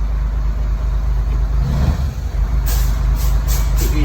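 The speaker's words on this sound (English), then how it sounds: "Handbrake back on." A bus air brake hisses as the handbrake is set, a brief burst of escaping air over the steady idle of the engine, followed by repeated high warning beeps from the low air pressure alarm.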